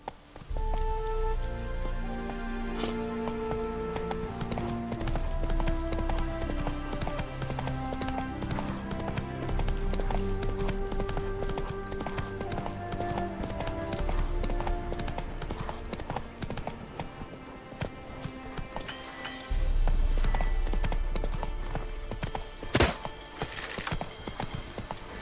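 Hooves of a horse galloping in The Witcher 3 video game pound in a rapid rhythm beneath a layer of orchestral game music.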